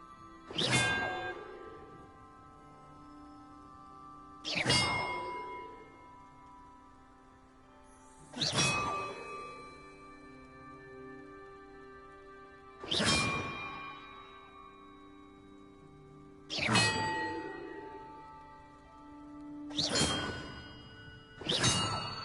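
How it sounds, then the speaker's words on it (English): Bells ringing in the Hogwarts Legacy video game, six separate loud metallic strikes spaced a few seconds apart, each with a bright attack and a long shimmering ring that fades before the next. "Perhaps the map contains clues about the order I'm supposed to ring the bells in."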